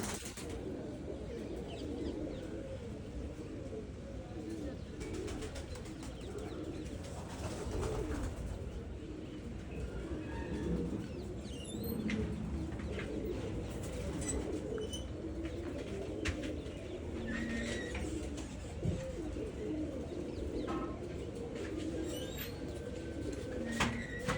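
Pigeons in a breeding loft coo continuously at moderate distance, with occasional wing flaps and light chirps scattered through the steady murmur.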